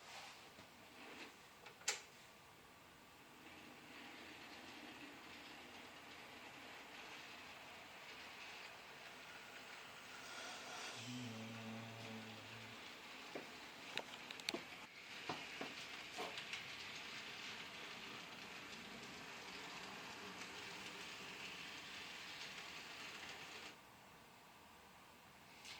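A Bachmann HO scale Dewitt Clinton model locomotive with a short wheelbase rolls across track switches and their frogs, making faint, irregular clicks and a soft running rattle over a quiet background.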